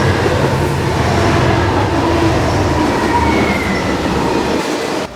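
A freight train heard from on board, running between Clovis and Belen in New Mexico: a steady, loud rumble of wheels on rail with faint squeals, continuous throughout and with no talking.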